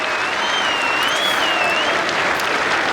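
A cricket crowd at an England v India Test match applauds steadily as Ben Stokes comes on to bowl, a dense, even wash of clapping from a large stand, with no voices over it.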